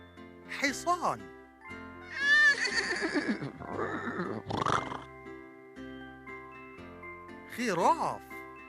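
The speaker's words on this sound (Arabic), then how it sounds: "حصان." A horse gives a long, loud, quavering whinny in the middle, with brief voiced sounds before and after it.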